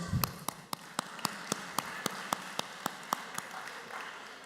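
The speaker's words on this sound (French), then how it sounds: "Nous applaudissons." A small audience claps in slow, evenly spaced single beats, about a dozen sharp claps in rhythm, faint and indoors with no talking over them.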